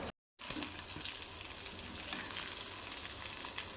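Fish frying in a pan: after a brief moment of silence, a loud, steady, close sizzling hiss continues without pause.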